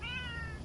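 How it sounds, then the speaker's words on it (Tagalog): A single cat lets out a short, clear meow close by on a roadside in the Philippines, over a low background hum. "May pusa pa, oh."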